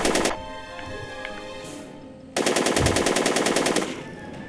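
Rapid automatic gunfire in the Back to the Future video game: a short burst, a pause, then a longer sustained machine-gun volley, loud and close with a sharp rattling rhythm.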